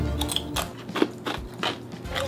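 Someone bites into and chews the spicy One Chip Challenge tortilla chip close to the microphone, giving a run of crisp, repeated crunches that keep going for a couple of seconds with no talk over them.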